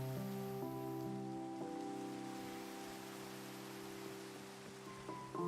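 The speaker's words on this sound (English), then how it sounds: "Ah, it's raining, so we won't be able to see the northern lights." Rain falls in the video game Minecraft: a steady, soft patter with sustained musical tones over it throughout, with no talking.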